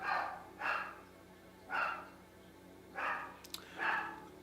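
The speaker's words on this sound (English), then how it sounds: "my dogs are barking. Must be a mailman." Four bursts of dog barking spaced about a second apart, somewhat distant and muffled, with a faint click near the end.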